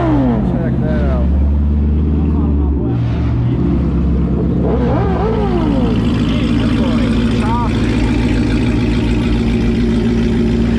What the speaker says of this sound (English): R8 pulling in.